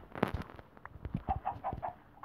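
A chicken clucks repeatedly in short, uneven bursts, close by, with a few sharper squawks mixed in.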